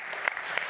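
Brief, scattered applause from a small audience at a handball championship press conference, a few quick claps standing out over a light murmur.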